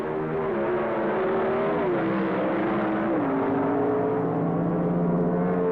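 Two 1970s Pro Stock drag cars, a Hornet and a Mustang, roar down a quarter-mile strip with a loud, steady engine drone whose pitch climbs and drops as gears shift, continuous and close throughout.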